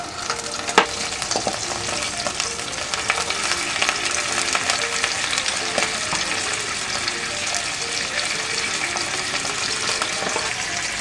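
Pieces of pork spleen frying in a hot pan, browning and releasing blood, give a loud, dense, continuous sizzle with occasional pops, close up and without talk.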